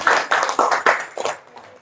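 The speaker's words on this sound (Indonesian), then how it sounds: "Kita tepuk tangan dulu ya buat kita semua." A group claps hands together in a classroom setting, five or six loud, distinct clustered claps in quick succession before trailing off into quieter scattered claps.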